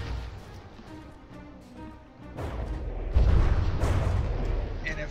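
Naval guns fire and shells strike warships in the game From the Depths during a tournament battle: deep rumbling booms and crashing impacts swell over a continuous low roar and stay loud through the second half.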